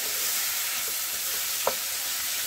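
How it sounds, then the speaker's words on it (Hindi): Boiled peas fry with masala over high heat, hissing in a steady close sizzle while a spoon stirs them, with one brief scrape near the end. "2 मिनट अच्छे से तेज आंच में मटर को मसाले के साथ भून लेंगे।"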